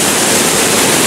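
Loud, dense, unbroken rush of falling water at the Sekar Langit waterfall ringed by bamboo, a steady broadband roar with no voices.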